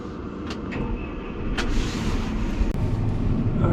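A farm tractor drives off on the farm, its engine a loud, close, steady rumble that swells slightly as it moves, with a few brief clanks and hisses over it.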